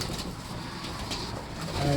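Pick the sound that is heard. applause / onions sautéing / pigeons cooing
pigeons cooing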